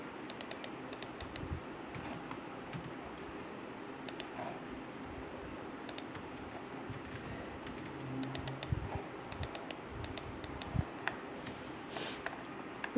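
Steady clatter of keys being typed on a computer keyboard while entering drawing commands for a building elevation, rapid irregular taps over a low constant hum, close and with no talking.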